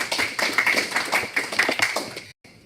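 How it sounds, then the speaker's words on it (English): A room full of people clapping in steady applause for a couple of seconds, then it cuts off abruptly into near silence. "big round of applause for Peter."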